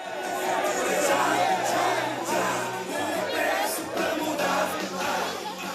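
A dense, loud crowd fills a street at a Socialist Party rally on Santa Catarina in Porto, with continuous chatter and cheering and no single voice standing out.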